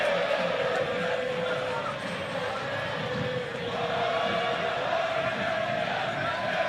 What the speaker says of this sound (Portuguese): Olha o alarido do povo.